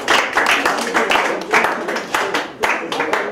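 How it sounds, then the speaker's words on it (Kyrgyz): Applause from an audience at a business seminar, a dense, close wash of many hands clapping in uneven surges for several seconds. "Кол чаап койсоңуздар."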